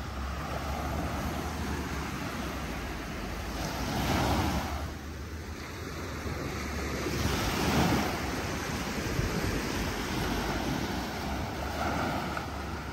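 Early morning ocean waves roll onto a beach in North Naples, Florida, a steady wash of surf with swells building and breaking every few seconds amid light wind noise.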